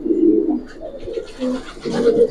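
A Palla-line giribaz pigeon coos in low, throaty rolling bursts, close and fairly loud, with a brief pause between phrases and no talk.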